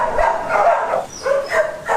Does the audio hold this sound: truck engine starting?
no